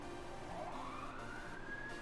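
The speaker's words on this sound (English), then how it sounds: "And that is another siren." Emergency siren wailing as it passes near a train station, a rising and falling tone over steady street and traffic noise, moderately distant and sustained throughout.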